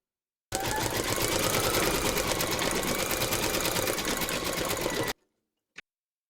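An embroidery machine stitches a teddy appliqué in silver thread, a loud, fast, even mechanical whirring and needle chatter running continuously for several seconds before stopping abruptly, followed by a single sharp click.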